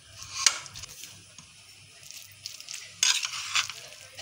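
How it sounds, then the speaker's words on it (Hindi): Light scraping and clinking as a rice cake mixture is stirred with ketchup in a bowl, soft irregular strokes with a couple of sharper hits, close and quiet, with no voices. "अब ये दूसरा में मैं केचप डालूंगी। इसको हम मिक्स करेंगे अच्छी तरह से।"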